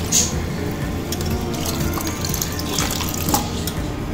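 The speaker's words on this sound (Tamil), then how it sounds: "இப்போ நம்ம இதை நல்லா 2 கை வச்சு இப்படி நல்லா அலசிடணும்." Water splashing and sloshing continuously as banana flower florets are rinsed by hand in a bowl of rice-washing water, a steady close wet churning with running-tap-like texture.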